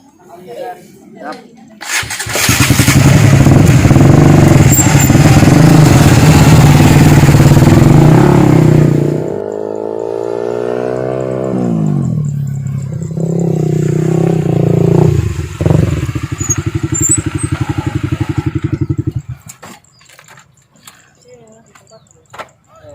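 A motorcycle engine revs loudly up close, then winds up and pulls away into the distance, with people talking over it and voices shouting near the end, on a bridge.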